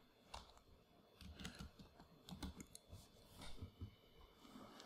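Keys clatter on a computer keyboard while a query is typed into SQL Developer, a short run of quiet, close, irregular taps with no voices.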